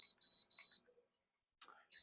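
An aquarium heater beeps while its temperature is being set: three loud, high electronic beeps in a stop-start pattern, with light handling clatter in the pauses.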